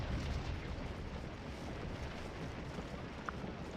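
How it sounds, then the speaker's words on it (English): Continuous rumbling artillery barrage from Civil War cannon in the strategy game Scourge of War, Battle of Stones River, a dense, steady roar of booming fire with no voices. "Saturate these Yanks with some more artillery."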